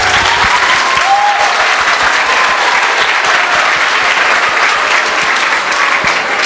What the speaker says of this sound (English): let's give a round of applause for each one of our speakers